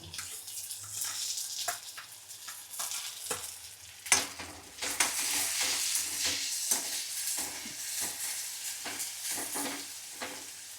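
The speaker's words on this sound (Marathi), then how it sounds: "ह्याच्यामध्ये तेलामध्ये आता आपण हा टोमॅटो घालून घेऊ" Onion and tomato fry in oil in a pan, with a loud burst of sizzling as the tomato goes in, followed by lively crackling and repeated stirring scrapes close by.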